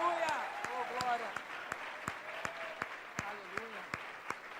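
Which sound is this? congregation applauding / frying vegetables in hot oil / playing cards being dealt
congregation applauding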